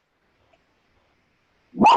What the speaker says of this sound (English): Oh, sorry, my dog is barking.